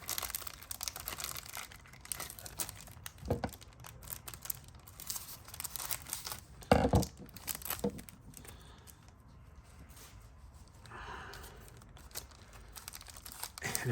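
Plastic wrapper on a vintage baseball card pack crinkled and torn open up close, soft scattered crackling with a couple of sharper tearing bursts, fairly quiet and without talk.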